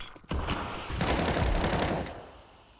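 Rapid automatic gunfire in a first-person shooter video game, a loud, sustained burst lasting a couple of seconds, preceded by a brief sharp sound, with no talking.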